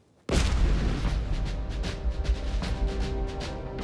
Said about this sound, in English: this is the first time a leather cannon has ever been fired on this continent